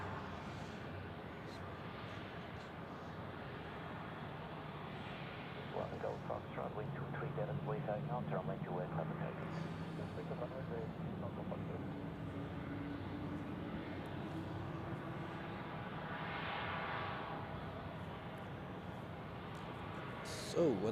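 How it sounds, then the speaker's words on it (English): An Airbus A220 airliner departs Zurich Airport, its steady broad jet roar held at a distance throughout, with people talking over it. "So another A220 departing before Austrian Airlines will be taking off to Vienna."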